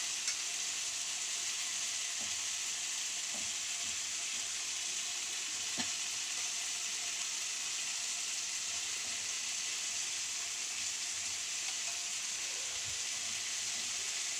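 Steady, even sizzling of an egg frying on a dosa in a hot pan, with occasional faint scraping as it is spread. The hiss stays close and unbroken, and no voices are heard.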